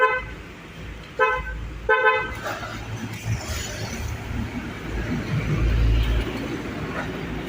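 A 2014 Toyota Agya TRD 1.0 automatic gives several short electronic chirps from its remote activation, closely spaced near the start, followed by low idle car rumble and ambient outdoor noise.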